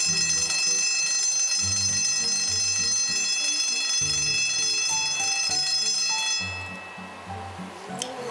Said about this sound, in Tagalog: parang medyo weird kasi iba yung alarm sa amin eh